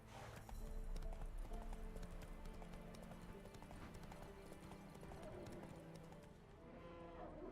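Hoofbeats of Roach, a horse in The Witcher 3, gallop in a steady, loud clip-clop rhythm through the whole stretch, backed by game music, with a brief whinny-like note.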